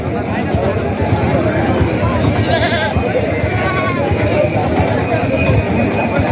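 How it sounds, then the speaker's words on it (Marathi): Goats bleating amid a busy crowd at a large open-air goat market in Maharashtra, the animal calls rising over continuous dense chatter and murmuring that fills the scene from start to end. "शेळ्या पाहू शकता मित्रांनो"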